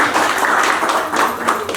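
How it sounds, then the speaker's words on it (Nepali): Audience applause at a stage entertainment event, a steady wash of many hands clapping throughout, moderately loud and continuous with no pauses. "थ्याङ्क यू सबैजनाले ताली बजाइदिनु।"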